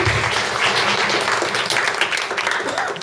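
Audience applause at a Korean talk event as a guest is called to the stage, dense, steady clapping from a full room for about three seconds.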